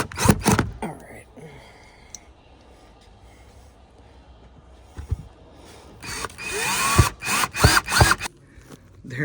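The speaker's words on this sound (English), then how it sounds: "I'm screwing my bed back together in their nice dry warm shop" A power drill drives screws to reattach a van bed inside a dry, warm shop, with short whirring bursts at the start and a cluster of louder drill runs near the end, separated by a quieter stretch.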